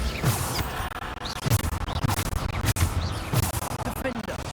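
Repeated Bombarda explosion spells in the Hogwarts Legacy video game burst in quick succession, each a sharp blast with a low thump over dense, continuous game combat noise.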